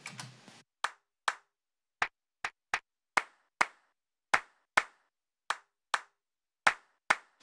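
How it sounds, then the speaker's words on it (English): Sampled hand claps in a drum pattern: about fifteen crisp, dry claps in a syncopated rhythm, loud and close, with silence between hits after a brief noisy burst at the start. "The next part in the drums are the hand claps."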